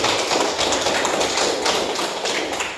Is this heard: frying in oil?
no